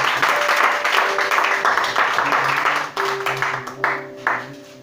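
A church congregation applauds and cheers during a worship service, with dense clapping mixed with voices and shouts that drops off near the end.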